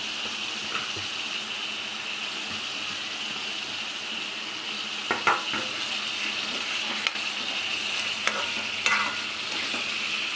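Chicken and thin-sliced onion frying in a pan, a continuous bright sizzle with occasional spatula scrapes and knocks, close and steady throughout with no talking.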